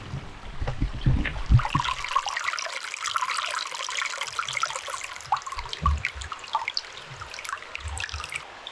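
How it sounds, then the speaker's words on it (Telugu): Water runs and drips inside a cave at midnight, a close, continuous trickle with scattered splashy drops, opening under a few low thumps and rumbles. "లోపల వాటర్ పోతున్నాయి కదా అదే సౌండ్ వినబడుతుంది"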